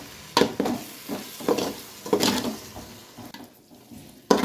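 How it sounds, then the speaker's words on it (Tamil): A lemon mixture gets stirred in a hot pan, with a soft sizzle under uneven scrapes and knocks from the spoon, one sharp clatter at the end. "இப்போ நல்லா கிண்டிக்கலாம்."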